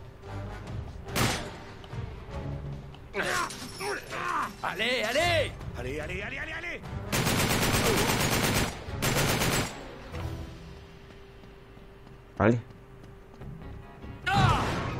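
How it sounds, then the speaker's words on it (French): Gunfire in the video game Uncharted 3 comes in several loud bursts of rapid shots with a few sharp single cracks and impacts, while someone talks excitedly between and over the shooting. "Qui me tire dessus?"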